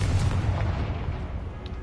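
A Confringo blasting spell explodes in Hogwarts Legacy, a heavy booming blast with a rumbling tail that fades over a couple of seconds.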